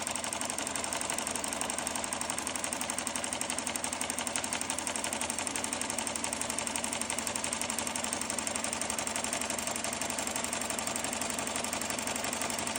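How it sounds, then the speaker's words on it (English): A Melco EMT16X embroidery machine stitches 3D foam puff embroidery, a dense, fast, steady needle rattle with a constant mechanical hum, close and continuous from start to finish with no talking. "3D foam puff embroidery on the EMT"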